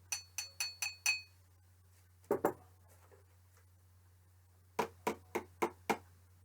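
Light glassy clinks from a pen tapping a cup, a quick run of five taps, a pair, then another run of five, ringing and clear over a low steady hum.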